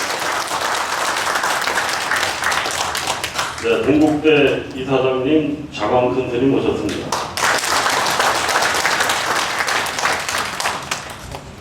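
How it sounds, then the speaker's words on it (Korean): Audience at a Buddhist forum applauding to welcome honored guests, a steady wash of clapping from a seated crowd that runs throughout, with a voice introducing a guest over the middle of it. "여러분 박수로 환영합니다."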